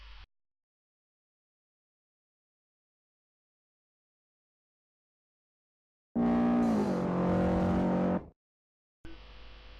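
Race car in a racing video game pulling away from the pit exit, a loud engine burst lasting about two seconds after long silence, then a brief quieter return of engine sound at the end.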